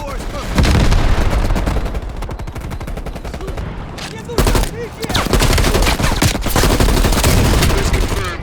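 C4 blast and heavy gunfire in the video game Call of Duty Black Ops Cold War, loud continuous automatic fire with booming impacts, a brief drop in the middle, then renewed dense shooting.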